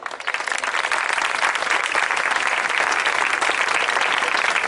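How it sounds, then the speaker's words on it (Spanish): Audience applause at an Equo political rally in Madrid, a dense, steady wash of many hands clapping that swells quickly and holds loud and even throughout, with no speech over it. "Un fuerte aplauso."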